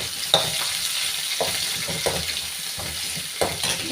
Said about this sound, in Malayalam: ഇതൊന്ന് വഴറ്റി എടുക്കട്ടെ.